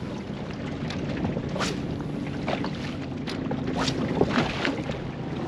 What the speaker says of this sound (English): Southerly's kicked in pretty hard. It's white capping everywhere.